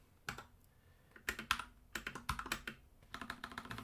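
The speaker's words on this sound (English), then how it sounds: "I can also tell that my typing is super slow" Keys clatter on a computer keyboard during a game development stream, in short uneven bursts of close, crisp clicks with pauses between.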